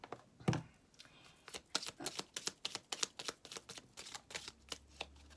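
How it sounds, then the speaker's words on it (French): A deck of oracle cards being shuffled by hand, a quick series of crisp riffling flutters and taps in an irregular rhythm, close up and fairly quiet, with no talking. "Alors, on va prendre une petite carte de l'oracle des filles."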